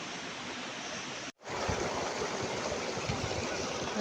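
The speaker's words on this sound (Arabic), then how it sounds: "هذا الواد تبارك الله شحال الماء كي داير." River water at the Imlil waterfalls near Marrakech rushes in a broad, steady roar that cuts out for an instant, then returns just as full and close. No one speaks.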